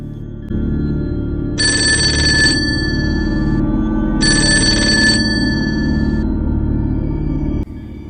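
A telephone ringing at night in a Hindi horror story: two long electronic ring bursts, each about a second, over a steady low background hum, with no one speaking.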